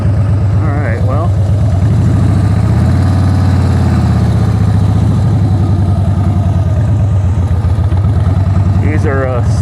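A wrecked Harley Davidson motorcycle rides in first gear, its engine a steady, loud low rumble throughout with a slight rise midway, while a voice talks briefly near the start and end.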